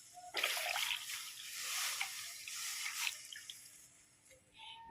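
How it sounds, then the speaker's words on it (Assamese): Two glasses of milk boil in a pan for lalmohan, giving a quiet run of soft bubbling, hissing and dripping-like pops with no talking. "এয়া গাখীৰ এতিয়া ভালদৰে উতলি গ'ল"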